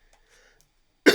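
A single short, loud cough bursts out at the end after near silence, close to the microphone.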